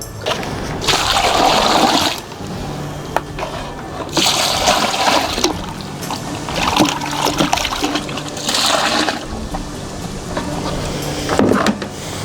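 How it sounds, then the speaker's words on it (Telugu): Water mixed with jaggery is poured onto biochar compost in bursts of splashing and trickling, each lasting a couple of seconds with short pauses between, loud and close, with no talking. "ఇప్పుడు ఈ బెల్లం కలిపి నీళ్ళు పోసేస్తానండి."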